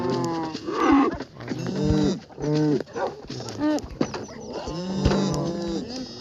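Minecraft cattle mooing in repeated low, drawn-out calls from several animals during a farm-breeding session, fairly loud and close, with a game soundtrack underneath and no talking.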